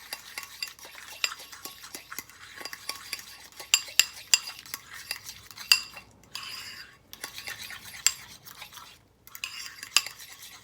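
A utensil stirs deviled egg filling mixed with dill pickles in a bowl, scraping and clinking against the sides in a busy, uneven rhythm, close and fairly clear, with a couple of short pauses.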